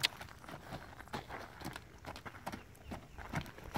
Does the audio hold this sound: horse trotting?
yes